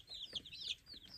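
Young chicks cheep in quick, high, rising peeps, a few close calls in a row against an otherwise quiet background.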